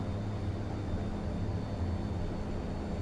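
Jet airliner engines spool up as the throttles advance in a flight simulator game, a steady, dense roar with a faint high whine held evenly throughout.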